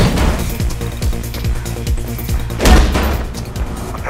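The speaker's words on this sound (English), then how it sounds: "I can hear gunshots" Gunfire in the video game Mirror's Edge: a rapid series of sharp shots at a steady rhythm, then a heavier burst near the middle, all over dense game background noise.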